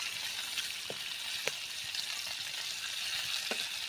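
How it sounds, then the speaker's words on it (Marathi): Pieces of spinach-coated fish frying in a pan of hot oil, a steady dense sizzle with occasional sharper pops and crackles, close and continuous, with no talking. "आलटी पलटी करून आपण चांगले असे खमंग असे तळून घेऊया"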